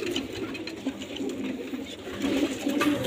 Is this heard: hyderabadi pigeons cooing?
yes